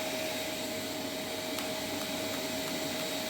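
Kiwi sofa and carpet washing machine running, a steady close mechanical whine and broad rushing noise with a constant tonal hum, unchanging over a few seconds with no one speaking.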